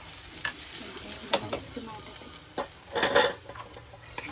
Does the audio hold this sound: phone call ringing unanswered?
no